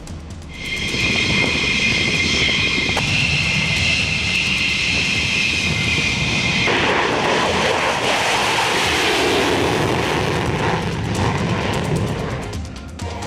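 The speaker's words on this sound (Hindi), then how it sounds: "सौ फाइटर जेट ने भरी उड़ान।" Israeli fighter jets flying over Iran, a loud sustained roar of jet engines across the whole stretch, with a high whine in the first half giving way to a broad rumbling rush.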